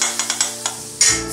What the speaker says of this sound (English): Pour the caramelized sugar.